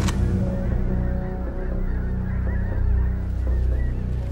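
A large flock of snow geese honks continuously, a dense loud chorus of overlapping calls filling the air as the birds fly in toward a hunting spread.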